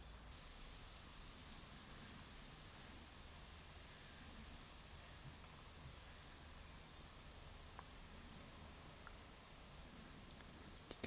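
Rain falls steadily on a dig site where an old buried swimming pool is excavated with a Kubota digger, a faint, even hiss with occasional drips, continuous throughout.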